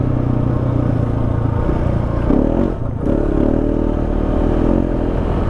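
KTM 690 motorcycle engine droning steadily while riding through soft desert sand, with a brief dip and change in engine note around a gear change down to third, close and continuous with rattling clatter underneath.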